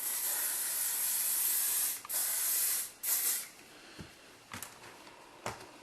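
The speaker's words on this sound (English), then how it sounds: "And then you're going to take your hairspray" Hairspray sprayed onto the back of styled hair: a long steady aerosol hiss, then short bursts with brief pauses, close and fairly loud, no talking.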